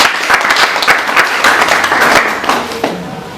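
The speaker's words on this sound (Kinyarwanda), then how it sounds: "Abo bantu ngo bampera amashyi." An audience applauds at a community event, dense sustained clapping throughout, loud and fairly close, fading slightly toward the end.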